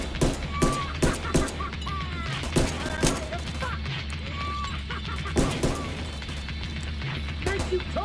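Blind-fire gunshots in The Division 2, a run of sharp irregular cracks and short bursts over steady game ambience, with people talking throughout.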